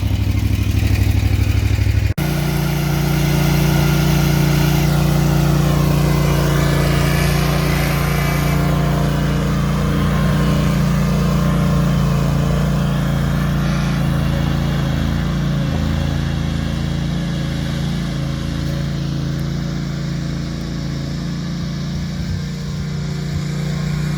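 A Husqvarna 54-inch stand-on lawn mower runs steadily throughout, a loud close engine drone with a mechanical clatter, starting abruptly and holding an even pitch with no talking.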